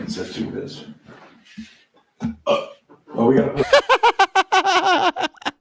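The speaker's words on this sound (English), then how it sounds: "It was like a weird burp." A loud, abrupt burp-like noise from a person cuts through talking, followed by choppy laughter and chuckling nearby.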